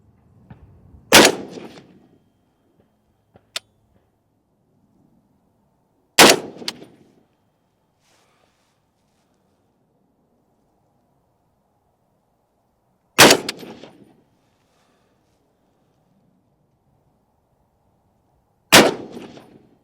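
Four loud, sharp unsuppressed rifle shots from a Springfield Saint Victor AR-10 in .308 firing 175-grain Sierra MatchKing rounds at a range, spaced several seconds apart, each with a short ringing tail.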